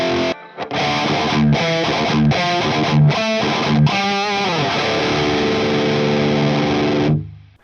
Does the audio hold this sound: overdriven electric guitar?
yes